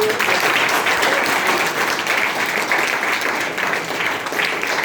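Loud, sustained applause from an audience at a National Science Day event, dense clapping running evenly throughout, close and full.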